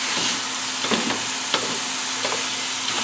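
Ground beef browning in a hot pan for beef stroganoff, a steady close sizzle with scraping and pressing clicks as a chopper tool breaks up the meat.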